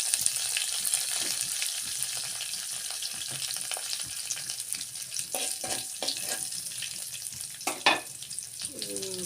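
Cumin, coriander and curry leaves crackle in hot oil in a pan while cooking potato bonda: a bright, continuous hiss with scattered pops and a few light stirring taps, close and steady.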